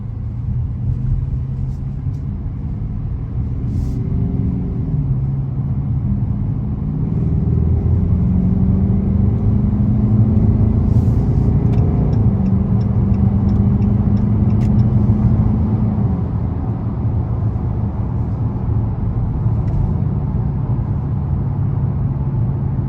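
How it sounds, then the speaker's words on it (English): A 2022 Dodge Charger R/T with a freed-up exhaust accelerates up an on-ramp to highway speed, its engine a steady loud rumble that builds and shifts through the gears, close and continuous throughout. "Now let's get onto the on-ramp and do a little bit of accelerating up to highway speeds"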